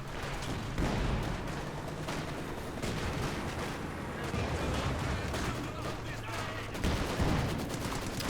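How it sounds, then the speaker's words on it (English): Dense battlefield din from Company of Heroes 2 in a 4v4 match: continuous overlapping mortar and artillery blasts and gunfire, loud and unbroken throughout, with a voice talking over the barrage. "Mortars flying left and right."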